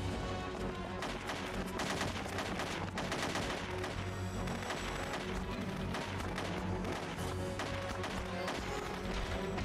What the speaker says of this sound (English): that was maybe 10 shots, maybe